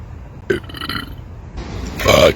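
A loud, drawn-out human belch rises at the end after a brief lead-in of voice, close and alone in a quiet setting.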